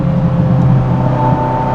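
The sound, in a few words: turbocharged V8 car engine noises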